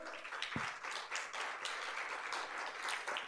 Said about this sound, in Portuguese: Palmas tímidas, né, irmãos? Tímidas diante do Senhor